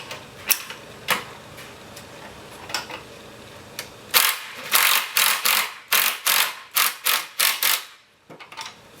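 A ratchet socket wrench tightens a steering nut on a Cubmobile build, giving a string of sharp metallic clicks that start sparse, then come quicker and louder in a rapid burst before stopping.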